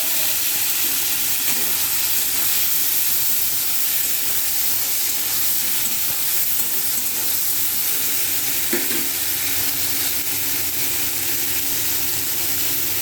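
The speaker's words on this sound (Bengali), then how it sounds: "তারপর আমি আলু আর টমেটোগুলোকে একসাথে ভেজে নেব" Potatoes and tomatoes fry in oil in a pan, sizzling and hissing steadily and fairly loudly throughout, with a few faint stirring knocks.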